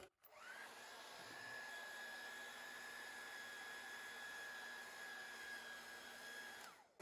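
A heat blower warms the adhesive on tape stuck to a wood inlay, giving a steady, even whir with a high whine that holds for about six seconds before cutting off.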